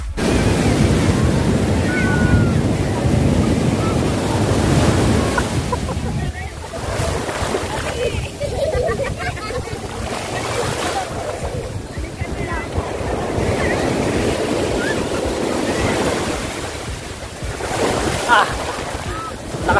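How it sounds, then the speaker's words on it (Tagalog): Strong ocean waves surge and break steadily along a roadside shore, heard during a holiday ride on a Honda Beat FI scooter between Manila, Rizal and Quezon, mixed with heavy wind rush over the microphone throughout; a rider briefly exclaims over it. "Grabe, lakas ng alon."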